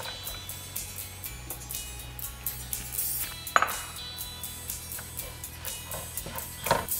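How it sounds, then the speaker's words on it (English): Knife chopping dates into small pieces on a board for a lemon and date pickle, a quiet run of light irregular taps close by with no talking. "just chop them into small pieces like this"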